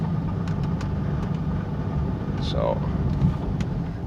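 A car engine idles steadily at low rumble while the vehicle is being parked, a continuous even hum with someone talking briefly over it.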